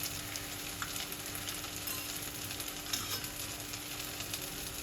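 Ginger, garlic and tomato masala fries in a pan as spices go in, giving a continuous sizzle with light stirring and small crackles, steady and close.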